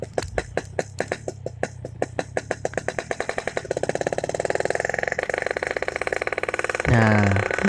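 Motorcycle engine fitted with an Altech C17 aftermarket exhaust, heard close and loud: a rapid, even rumbling pulse that speeds up into a steady drone, then a louder deep throb near the end.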